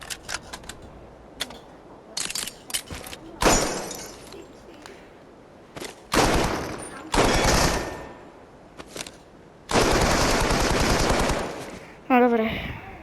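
Rapid bursts of automatic machine gun fire in the VR shooter Crossfire: Sierra Squad, several loud sustained volleys separated by short single shots and clicks, with a brief mechanical rattle at the end.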